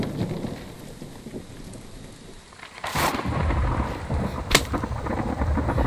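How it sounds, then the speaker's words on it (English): Rain and thunderstorm in the survival video game The Infected: steady rainfall hiss with a deep rumble of thunder building and two sharp, loud cracks, no talking. "Now, it's a hell of a storm."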